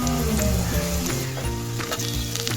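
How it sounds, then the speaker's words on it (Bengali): Panch phoron, the Bengali five-spice mix, is stirred into onions frying in hot oil for a mango dish, giving a loud, continuous, close sizzle with soft stirring scrapes throughout. "আর 1 চিমটি দিয়ে দিচ্ছি হচ্ছে 5 ফোড়ন, দিয়ে এটা ভালোভাবে পেঁয়াজের ওপরে নেড়ে চেড়ে নিচ্ছি।"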